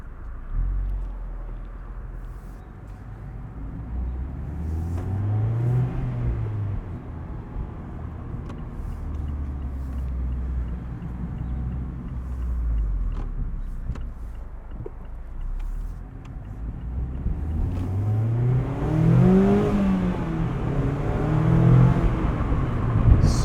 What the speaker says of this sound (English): Super responsive engine, loves to rev, awesome throttle response